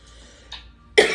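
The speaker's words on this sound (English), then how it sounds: "Again, with this coughing," A person coughs: a faint short cough, a slightly louder one, then a sharp, loud cough at the end, close to the microphone with no speech.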